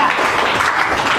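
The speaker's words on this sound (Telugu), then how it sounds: "చప్పట్లు కొట్టండి." Congregation applauding in a church, a steady broadband wash of many hands clapping together, fairly loud and continuous throughout, with faint voices mixed in.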